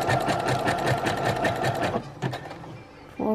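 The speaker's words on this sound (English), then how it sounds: "Then release and forward. Back stitch again." Brother sewing machine running a back stitch, a steady close rapid mechanical whir and needle clatter for about two seconds, then stopping, followed by a few faint clicks and a brief restart.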